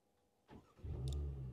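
A car engine started remotely with a key fob turns over after a short click and settles into a steady, close idle, with a brief high chirp on top.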